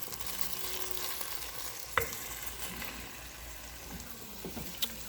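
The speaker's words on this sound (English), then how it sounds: "So I have some ground beef browning up." Ground beef browning in a frying pan gives a soft, continuous sizzle at low level, broken by a couple of brief utensil clicks and scrapes, with no talking over it.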